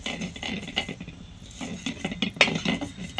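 Green chili thecha being crushed on an iron griddle pan, giving irregular scraping and grinding knocks of metal and pestle, up close, with no talk.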